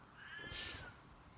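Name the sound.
cat meowing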